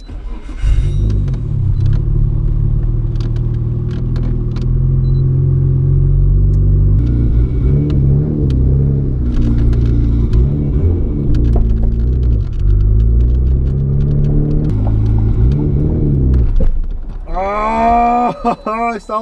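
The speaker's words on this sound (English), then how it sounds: "Maybe you can get an idea what the straight pipe sounds like." Straight-piped Nissan GT-R R32 exhaust rumbling loudly and continuously up close with a deep, throaty drone, then rising into a higher, sweeping rev near the end.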